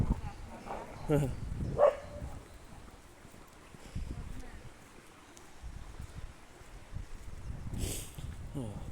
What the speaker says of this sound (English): Love the dog, Sam.